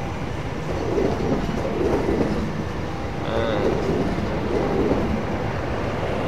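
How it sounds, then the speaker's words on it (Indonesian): An economy-class passenger train passes at a station in Yogyakarta near Malioboro, heard from an upper floor as a steady, moderately loud rumble with faint rail clatter lasting throughout, and no voices. "Kereta ekonomi ya"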